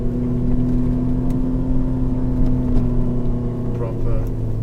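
A Nissan X-Trail with its center differential locked drives across sand. A steady, rumbling engine drone runs throughout at an even level, with faint rattles over it and a voice talking quietly underneath.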